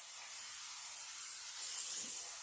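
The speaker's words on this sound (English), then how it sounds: "I'm going to spray it well with a good amount of non-stick cooking spray" Non-stick cooking spray hisses steadily from an aerosol can into a cleaned casserole pan, one continuous close spray lasting a couple of seconds with no talk.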